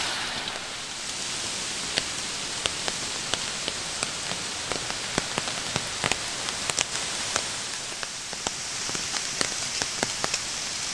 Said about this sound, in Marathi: थोडा थोडा पाऊस पण चालू आहे